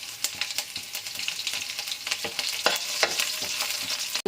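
Garlic and dried red chillies frying in hot oil with mustard seeds and curry leaves, a steady close sizzle with crackles and stirring scrapes throughout, no talking.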